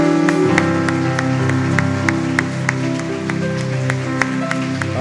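A church congregation claps steadily and enthusiastically over sustained music during a worship service, with sharp scattered claps standing out throughout.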